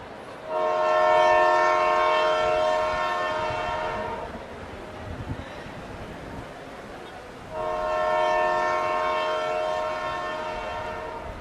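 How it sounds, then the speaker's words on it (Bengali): Train whistle blowing for departure at a station, two long loud sustained blasts separated by a few seconds of rumbling platform noise, strong and near. "এইদিকে ট্রেন ছাড়বার হুইশাল বেজে ওঠে।"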